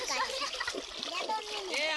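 A child splashes into clear natural river water in a Konkan jungle, with loud splashing and sloshing throughout, children's voices and adult talk mixed in close by.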